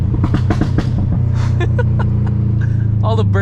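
Loud, rumbling exhaust of a Stage 2+ Subaru WRX STI, a steady low drone with sharp crackles and pops layered on top, heard close up from inside the car during a drive past a golf course.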